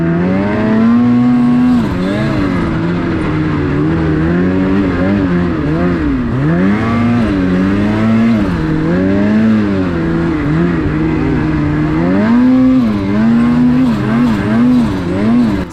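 Snow bike on a frozen lake, its engine revving loudly and repeatedly rising and falling in pitch as the rider works the throttle through snow, close and continuous throughout.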